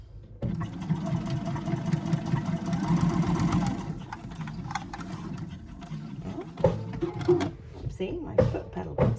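A sewing machine runs steadily for about three seconds, stitching a half-inch fabric seam on an Easter bag, then stops, followed by light mechanical clicks and handling noises.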